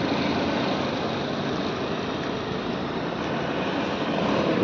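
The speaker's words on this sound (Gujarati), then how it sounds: "ધ્રુવ કોઈની બાઇક ચાલુ કરે હે ઠંડીમાં ઠરી જાય" A motorbike engine runs at idle on a cold morning, a steady, even rumbling drone that holds unchanged throughout with no talking.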